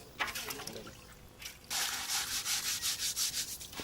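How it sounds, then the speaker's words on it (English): Rice paddy being stirred and washed by hand in a water-filled container, soft scattered swishes at first, then a run of rhythmic, gritty rubbing sloshes that pulse several times a second, close up. "Wash and stir the paddy well so that the lighter particles float."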